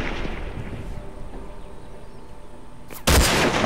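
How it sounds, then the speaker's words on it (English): Gunfire in the video game Hunted, a sudden loud burst near the end after a stretch of steady rumbling background. "Oh, stop taking shots."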